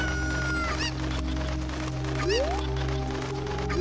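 A chicken clucks a few times in Zelda: Ocarina of Time, set against a constant game music and ambient bed with chirpy melodic tones and a rising swoop.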